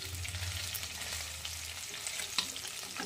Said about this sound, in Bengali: মাছটা ভাজা হয়ে গেছে প্রায়, এখন আর ঢাকা দেব না, এইভাবেই আর একটু ভেজে নিই